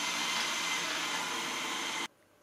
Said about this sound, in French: présentation du robot aspirateur, le Xiaomi Viomi